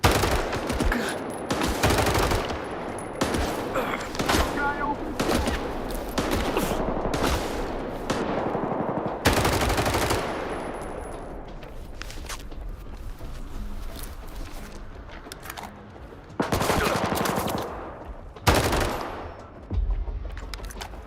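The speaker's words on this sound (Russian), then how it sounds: "Родные звуки гаусс-пушки" Repeated loud gauss gun shots in S.T.A.L.K.E.R. 2: Heart of Chornobyl, sharp shots spaced irregularly with ringing tails, no talking.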